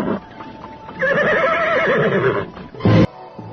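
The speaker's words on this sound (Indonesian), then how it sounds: "Kuda itu meringkik keras, kemudian belok ke arah sebuah jalanan tinggi." A horse neighs loudly as a dramatic sound effect, a long shrill whinny that stays near and prominent, then a brief sharp burst near the end.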